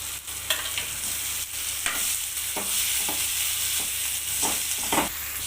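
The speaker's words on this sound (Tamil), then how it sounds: "இப்போ வந்து தக்காளி கேரட்டும் முட்டைக்கோஸும் போட்டுக்கலாம்" Tomato, carrot and cabbage sautéing in a pan give a steady sizzle, with a few sharp scrapes and taps of a spoon stirring, and no voices.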